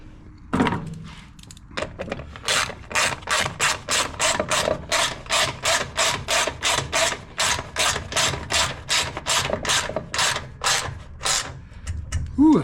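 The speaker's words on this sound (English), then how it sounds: "that's a nice ratchet wrench" A ratchet wrench clicks in a quick steady rhythm of about two dozen even strokes during a blade deck belt replacement on a John Deere S140 48-inch mower, close and crisp with no talk.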